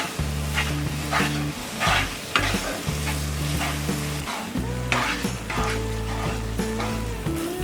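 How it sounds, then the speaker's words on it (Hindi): Powdered sugar milk mixture stirred continuously in a pan over a low flame for milk malai modak, a steady scraping swirl with soft sizzling throughout, close and fairly loud, no voices. "ये पाउडर्ड शुगर, इसे कंटिन्यूस स्टर करेंगे लो फ्लेम पर।"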